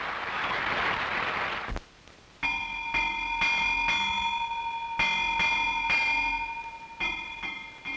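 A village bell on a remote island rings at dawn, sounding in a run of clear metallic strikes about a second apart. A short burst of noise comes just before the ringing starts.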